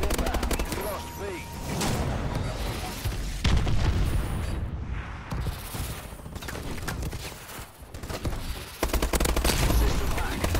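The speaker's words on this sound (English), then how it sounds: "Friendly missile strikes inbound" Missile strikes and gunfire fill a Call of Duty: Advanced Warfare match, with dense rattling bursts and heavy booms that pound almost continuously and briefly ease near the middle.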